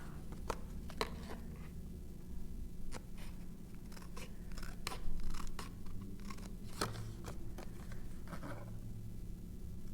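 Scissors snip through card stock in a series of short, close, quiet cuts, irregularly spaced over a low steady background hum.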